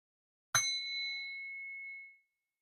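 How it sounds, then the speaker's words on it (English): One struck bell, rung before a prayer, gives a sharp clear ding that rings on with a long, slowly fading tone for nearly two seconds in an otherwise silent room. "So here comes the bell,"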